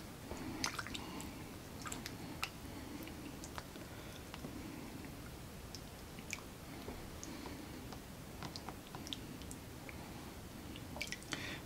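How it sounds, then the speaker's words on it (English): Water being gently swished around a rabbit during a bath, with soft splashes, drips and small wet squelches scattered irregularly over a quiet background, fairly close and faint. "I'm just swishing the water around."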